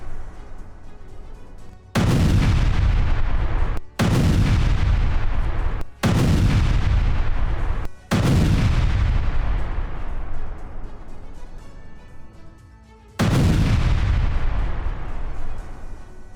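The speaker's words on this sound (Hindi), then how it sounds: "रूस की आर्टिलरी ब्रिगेड का हमला" Russian artillery fires in a series of heavy booms, five deep blasts spaced a couple of seconds apart, each followed by a long rumbling decay, loud and close with no talk.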